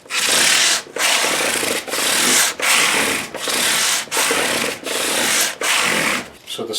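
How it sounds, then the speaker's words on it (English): A 400 grit vinyl-wrapped scrub block rubs back and forth over guitar frets in brisk, regular strokes, each a loud close scratchy swish separated by brief pauses. "we use the scrub blocks that you get in your kits, 400 grit"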